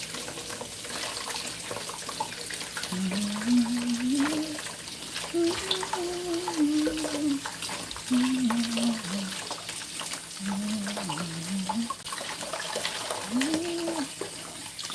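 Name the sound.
tap water running while scrubbing a chopping board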